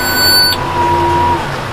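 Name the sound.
baler monitor beeping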